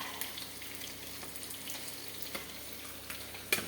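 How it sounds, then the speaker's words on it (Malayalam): Coconut oil for fish curry sizzling in a pan, a soft, steady crackling hiss running throughout at low volume, close by, with a small knock at the end. "സ്വല്പം വെളിച്ചെണ്ണ ഇവിടെ അങ്ങോട്ട് ഒഴിക്കുകയാണ്"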